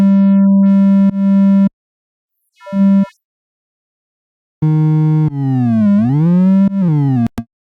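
A buzzy synth tone from the Vital synth plays in separate held bursts, its brightness swept up and down as a low-pass filter opens and closes, loud and up close.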